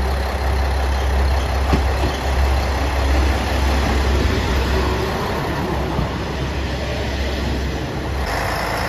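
JR Shikoku 1000 series diesel local railcar running, a loud continuous rumble of engine and wheels on track that holds steady close by, with a slight shift near the end, no voices.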